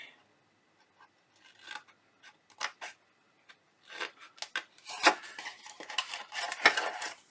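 Scissors cutting pieces out of a milk carton for a treat box: quiet at first, then a cluster of sharp snips and crisp carton rustles up close.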